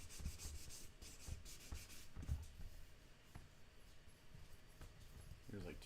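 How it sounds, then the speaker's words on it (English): Close, uneven rubbing strokes of sanding tools working over a dry-sprayed finish, with scratchy bursts and short pauses; a voice talks over the scraping. "High-tech sanding tools here."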